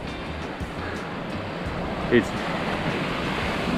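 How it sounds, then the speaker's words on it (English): Ocean surf breaks offshore from a Vanuatu island in a steady wash of waves and wind noise, while a voice briefly speaks over it. "There's a wave breaking out there, surf break."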